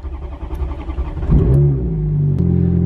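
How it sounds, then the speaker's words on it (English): A Ferrari F430 on its stock exhaust cranks and fires up, with a short starter whir and then a loud, close revving burst that settles into a steady idle. Sharp clicks cut through. "climbed in the F430. The final start with stock exhaust."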